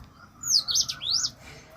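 Birds chirp close by, a few bright sweeping tweets in quick succession over a quiet outdoor background.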